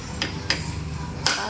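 Sharp metal hammer blows strike a part on a DA64 vehicle during maintenance, three quick close knocks spaced unevenly over a low background hum.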